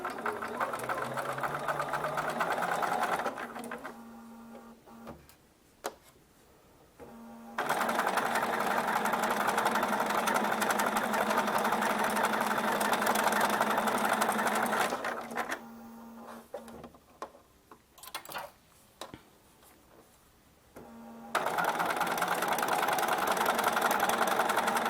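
A sewing machine stitches a curved hem in steady running bursts with loud mechanical whirring, broken by two short pauses while the presser foot is lifted and lowered, then it resumes.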